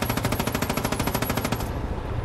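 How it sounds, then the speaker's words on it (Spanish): Automatic gunfire in the video game Far Cry 5, a loud, rapid and evenly spaced burst of shots lasting under two seconds before cutting off abruptly. "Veis que los disparos chocan con el aire."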